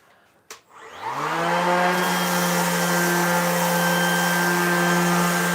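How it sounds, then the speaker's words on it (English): A DeWalt random orbital sander starts with a click, then spins up within a second into a loud steady whirring hum with a high whine, held close and continuous. "we've had this sander for a couple months"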